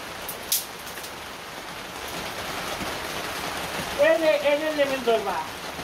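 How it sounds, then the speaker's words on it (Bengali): Steady rain hisses in a continuous wash, and a voice rises briefly over it near the end. "সারাটা দিন খালি বৃষ্টি আর বৃষ্টি, বৃষ্টি আর বৃষ্টি"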